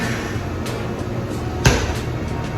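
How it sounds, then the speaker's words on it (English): A single heavy thud as a 20-pound slam ball hits the floor during a workout, sharp and fairly close, over a steady hum of gym ventilation. "And you're just slamming the ball."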